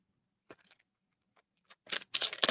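Household scissors snipping through packing tape on a parcel, a few soft clicks early on and then a louder burst of close, crisp cutting and crinkling at the end.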